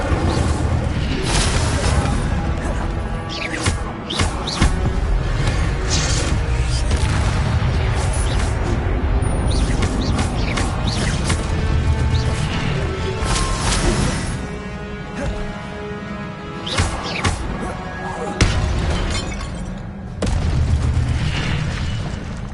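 Fire spell blasts in the video game Hogwarts Legacy, with a dense run of booming, crackling magical bursts and impacts layered over continuous game music and effects, loud and close throughout.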